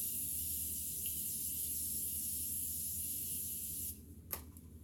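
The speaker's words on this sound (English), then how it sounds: "I'm going to use the new Continuous Mist Setting Spray by Morphe." Morphe Continuous Mist setting spray hisses steadily as a fine mist onto a face for several seconds, close and soft, then stops, followed by a brief click.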